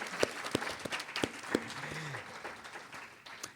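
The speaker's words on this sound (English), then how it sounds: "let's give our panel a round of applause" Sparse, faint claps from a small audience thanking a panel at a training workshop's general session, a handful of separate hand claps spaced about a third of a second apart that thin out, with a brief low tone in the background.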